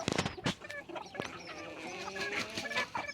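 Several short hen clucks in quick succession, fairly faint, over a busy background of other bird calls and farmyard noise.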